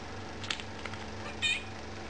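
Indoors, a house cat meows twice in quick succession, close and fairly clear over steady background hum, with no talking.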